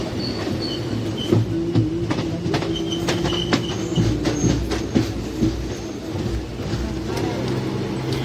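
An Ahmedabad to Mumbai Central passenger train pulls into Vapi station, wheels clacking over rail joints with intermittent squeals and a steady rumble close by, while voices talk over it.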